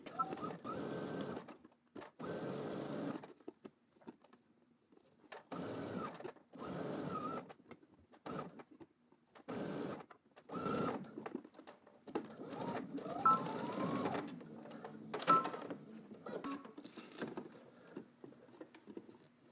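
Domestic sewing machine stitching a garment seam on sleeves, running in repeated bursts of whirring separated by short pauses, fairly close and moderately loud, with a voice speaking in places between runs.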